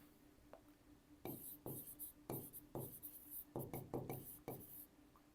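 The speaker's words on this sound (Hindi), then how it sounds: "चलो लिख ही लेते हैं" Pen writing out a Class 10 maths equation, with a steady series of scratchy strokes and taps on paper, close and fairly quiet, carrying on for several seconds with no talk over it.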